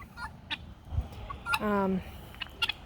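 Guinea fowl and hens in an orchard cluck and call, with one brief loud, harmonic squawk standing out among scattered nearer clucks and a soft low thump.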